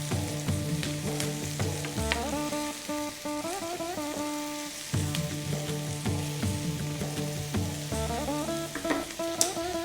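Cumin and turmeric fry in hot oil with a continuous bright sizzle and crackle, loud and close, under steady stirring and no talk.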